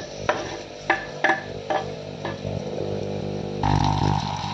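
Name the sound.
onion sautéing in a saucepan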